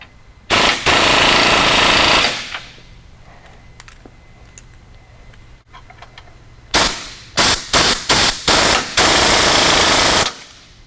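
Ratcheting socket wrench tightening a bolt on a Pioneer 1000 during a plate installation, with loud bursts of rapid clicking, a long run followed by several short repeated pulls, very close.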